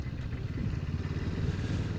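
A QJ Motor SRT 450 RX, a small twin-cylinder A2 adventure motorcycle, runs with a steady, fairly loud, low throbbing engine note that holds evenly for about two seconds, with no voices.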